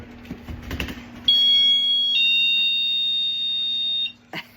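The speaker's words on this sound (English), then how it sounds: "It is so loud, like a 90s store alarm" A loud, piercing electronic door alarm blares as a steady high tone for about three seconds after some quiet rustling, then cuts off abruptly.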